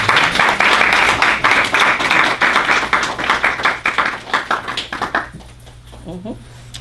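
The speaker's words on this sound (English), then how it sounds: "another round of applause for Yolanda and Ronald" An audience applauds to welcome a couple onto a stage, a loud, dense burst of clapping that holds for about five seconds before thinning out into a few scattered claps.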